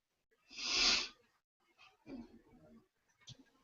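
A single loud, close sneeze bursts out alone, followed by softer breathy sniffs and a faint snort in an otherwise quiet indoor setting.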